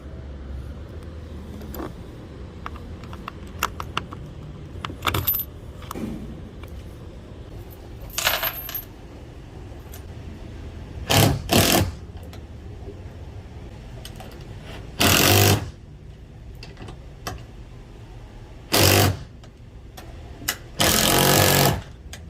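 Bolting a Taco outrigger onto a Pursuit 385 offshore boat, with repeated short bursts of a power driver or impact tool, each lasting about a second, separated by quieter handling and faint clinks.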